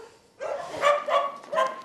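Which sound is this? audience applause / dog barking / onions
dog barking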